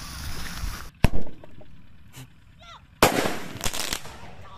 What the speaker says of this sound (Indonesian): Saiki mercon Bima Sakti. Bima Sakti, gobal nyalane.